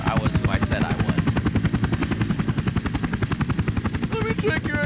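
A helicopter in the video game Hitman 2: Silent Assassin, with loud, steady, rapidly chopping rotor blades close by throughout, and faint background talk.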